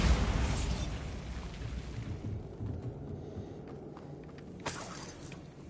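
A Bombarda spell explosion in Hogwarts Legacy opens with a loud burst and crumbling debris that fades into a low rumble, followed by a sharp fainter crack near the end.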